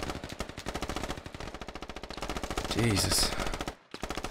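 An M249 light machine gun fires rapid sustained bursts in the military shooter game Squad, loud and close, with a brief break near the end; a player briefly exclaims over the gunfire.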